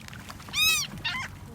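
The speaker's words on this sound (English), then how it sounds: "Yeah. All the seagulls." Seagulls squawk while being fed bread outdoors, with two loud nearby calls, the first longer and the second shorter, over faint background noise.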